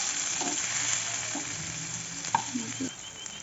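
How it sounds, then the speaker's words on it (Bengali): Chopped onions frying in oil left from frying fish: a constant close sizzle with soft scraping and stirring knocks from a utensil in the pan. "এই মাছ ভাজার তেলেই দিয়ে দিয়েছি কেটে রাখা পেঁয়াজ।"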